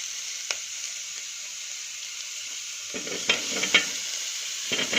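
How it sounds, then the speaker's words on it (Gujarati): Onions frying in a pan for tomato soup, a faint hiss that grows busier with several scraping stirs of a spoon toward the end, quiet and close. "થોડી વાર હલાવી અને એમાં આપણે ટામેટાં એડ કરી દઈશું"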